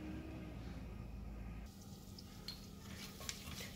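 Bay leaf, cinnamon, star anise, cloves and cardamom frying in hot oil in a pressure cooker for mutton biryani, a steady close sizzle with light stirring and small clinks of a spoon against the pot.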